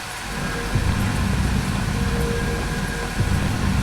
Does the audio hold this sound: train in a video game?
yes